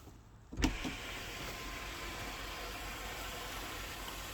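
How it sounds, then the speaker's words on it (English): Electric sunroof motor on a high-mileage Volvo V70 whirring open after a click, a steady close mechanical hum over car interior noise, no talking. "I didn't check till now the sunroof, guys. Look at this. It is working."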